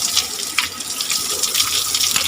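Water runs steadily from a shower in a family home in the Philippines, a continuous broadband hiss with a few brief splashy surges, close and moderately loud with no talking.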